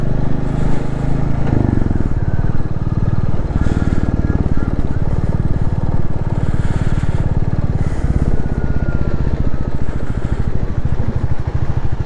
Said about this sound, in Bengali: পুরো মাটির রাস্তা, চাকা প্রচণ্ড স্কিড করছে।